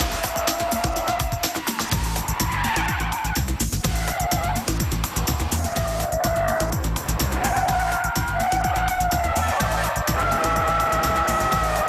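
A Vauxhall sports convertible related to the Lotus Elise is driven hard on a track, its engine revving and shifting loudly through repeated surges, with brief tire squeals between.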